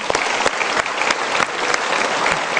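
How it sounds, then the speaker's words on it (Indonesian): Seminar audience applauding, a dense steady burst of many hands clapping close and loud, continuous throughout with no talk over it. "Kita berikan sekali lagi tepuk tangan."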